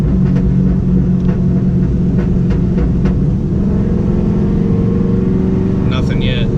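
A cammed SS Camaro rumbles loudly and continuously in third gear on city streets, a low, lumpy engine drone heard from inside the car, with brief faint clicks over it and a short higher sound near the end.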